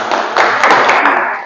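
A classroom group receives a brief burst of clapping from students, dense and fairly loud, lasting about a second and a half with no talk over it.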